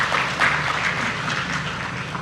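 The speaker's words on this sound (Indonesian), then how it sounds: "Tepuk tangan arahan Bapak Presiden." Audience applause at a large live mass-mortgage signing ceremony, a brief, fairly faint wash of clapping heard alone.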